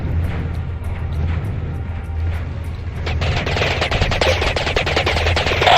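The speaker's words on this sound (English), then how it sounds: "Here's where I use these turrets basically to mop up the stuff" Turret gunfire in the Battlezone Combat Commander game starts midway, a fast rattling burst of shots over a low rumbling background, loud and sustained to the end.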